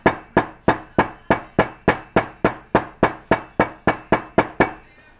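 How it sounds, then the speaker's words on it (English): A hammer taps a wheel bearing into a Can-Am Raptor 700 ATV front wheel in a steady, even rhythm, about fifteen sharp close metallic strikes before stopping. "you can use a mallet or hammer or whatever you're using to tap it in real slow and easy"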